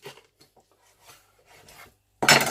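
A knife scrapes and rasps across a chicken carcass, starting with soft faint scratches and ending in a loud, harsh, close scrape.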